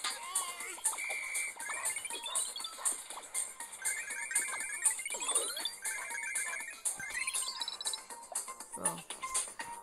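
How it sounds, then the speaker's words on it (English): A phone ringtone plays as a chirpy, rising electronic melody in repeated bursts, fairly loud and close, over a busy background of clatter and faint voices in a home setting. "Pick up your phone."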